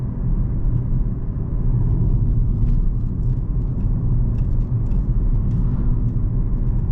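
A 2008 VW Jetta Comfortline under full-throttle acceleration, heard from inside the cabin as a steady, loud engine drone and road rumble that holds without break.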